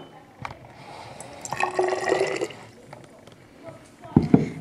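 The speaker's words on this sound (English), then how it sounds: "we're now going to start off by pouring in 20 mils of our sodium thiosulphate" Sodium thiosulphate solution being poured into a container while making lab dilutions, a trickling, splashing liquid sound that swells in the middle and ends with a brief louder gurgle, fairly close.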